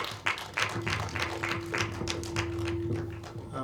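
A small film festival panel audience claps together, a steady patter of many hands lasting a few seconds, fairly close.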